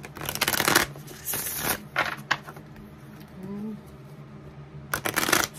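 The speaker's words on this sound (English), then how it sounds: "Let me shuffle the cards." Crisp riffling tarot card shuffles in a few bursts, close by, with quieter shuffling and handling between them.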